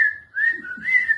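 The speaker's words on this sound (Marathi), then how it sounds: "मी त्याला आणि तो मला एक ठराविक शिट्टी वाजवून बोलवायचं" A person whistles a fixed call signal used to summon a neighbour: a clear, close melodic whistle in two sliding phrases separated by a brief break.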